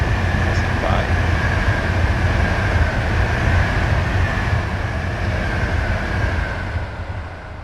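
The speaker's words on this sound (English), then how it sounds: "Here's coming. It's a passenger train, you can see." Passenger train passing by in the SimRail video game, a steady rumbling roll with a constant hum that fades slightly at the end, under occasional talk.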